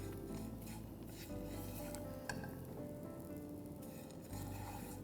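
A coconut and peanut mixture with finely chopped garlic roasting in a pan, a steady low sizzle with the soft scrape and clink of stirring throughout, fairly quiet and close.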